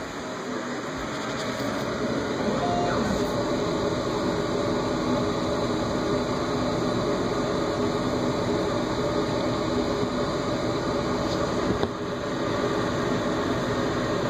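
A laser cutter running a cutting job, a loud continuous roar of fans and machinery with a few high whining tones holding steady throughout, close and unbroken, with no voices.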